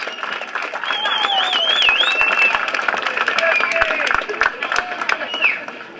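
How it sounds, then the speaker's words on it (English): An audience at a political office reception breaks into applause, loud dense clapping mixed with whoops and cheering voices, sustained for several seconds before easing. "Give yourselves a big round of applause."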